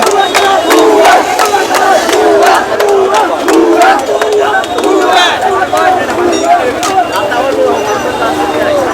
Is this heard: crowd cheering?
yes